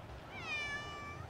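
One drawn-out, quiet meow from a cat sounds over a low background hum, with no one talking.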